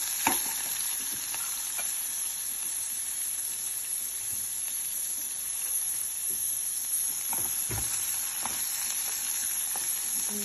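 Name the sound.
frying green chillies, onions and garlic in a pan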